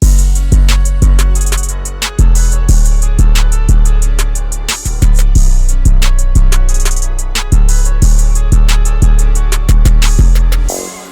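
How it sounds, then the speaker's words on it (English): A loud, bouncy hip-hop drum pattern with heavy bass, rapid hi-hat rolls and an extra offbeat snare answering the main hits. "added some bounce to it with a counter snare."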